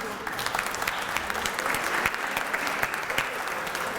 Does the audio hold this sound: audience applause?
yes